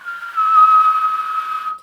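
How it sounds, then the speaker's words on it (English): A person whistles a single steady tone for almost two seconds, shaping it with the lips so the mouth acts as a resonating filter; close, clear and alone. "It starts to whistle, Yeah. and that whistle is the resonance."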